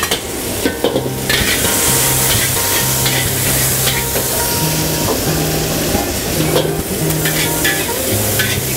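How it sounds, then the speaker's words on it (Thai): Blanched vegetables stir-fried in a hot pan, a loud continuous sizzle with scraping stirs and occasional clatter, no voices. "ขณะที่เราผัดให้เข้ากันเนี่ยเราก็ใส่เนี่ยพวก ต่างๆที่มันลวกไว้"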